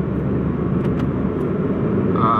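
A 2021 Proton Saga Premium pulls away in S mode locked in third gear, its engine a steady low drone inside the cabin, with a faint whine rising at the end.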